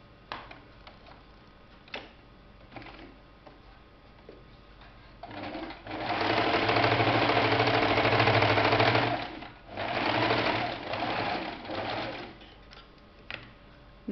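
A sewing machine stitches a fabric face mask, first a few short ticking starts, then a long steady whirring run followed by two shorter bursts, close and clear with little else around.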